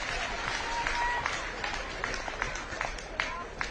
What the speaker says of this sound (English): Smattering of applause comes in from around the Nick Newbold Stadium.